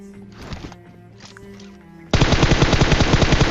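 Rapid automatic gunfire from an extended-magazine gun in PUBG Mobile breaks out suddenly after a quieter stretch, a loud, sustained stream of shots that continues to the end.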